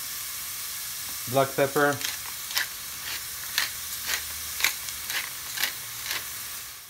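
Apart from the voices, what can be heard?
onions frying in a pan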